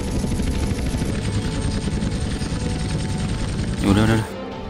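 Helicopter in GTA San Andreas at pilot school, a steady loud rotor and engine drone running throughout with game effects and a brief tonal burst near the end.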